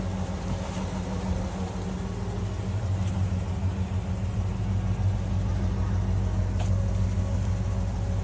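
Engine of a 1975 Ford E100 van idling steadily, a close, continuous low rumble with a constant hum and occasional faint ticks, no talk.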